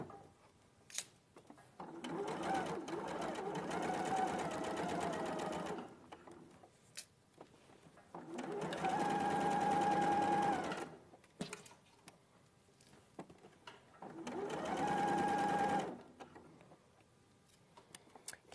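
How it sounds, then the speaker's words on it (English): A sewing machine stitches fabric in three long runs of steady whirring, each several seconds, split by short pauses; the motor hums close and fairly loud, with faint clicks between runs and no talk. "I'm just going to take my time and sew"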